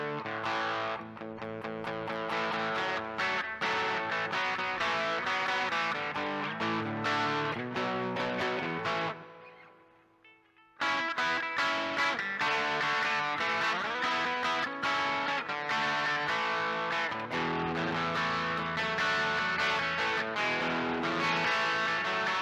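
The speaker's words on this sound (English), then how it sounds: "So this is my light overdrive sound on the HX effects" An electric guitar plays through a light overdrive Timmy-style tone with plate reverb on a Line 6 HX Effects unit, continuous chords and riffs with one brief pause of ringing decay, no talking.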